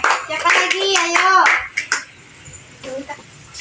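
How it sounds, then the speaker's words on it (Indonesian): A group of children claps in a classroom religious lesson, with sharp, close hand claps falling in a quick run while young voices chatter and call out over them, then trailing off into quieter murmuring. "tepuk tangan untuk kawannya"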